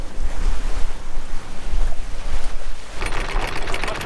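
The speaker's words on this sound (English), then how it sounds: "The wind's finally picked up" Strong wind at sea aboard a sailboat making about 7 knots, a loud, gusty roar of wind buffeting the microphone mixed with rushing water, growing harsher and brighter toward the end.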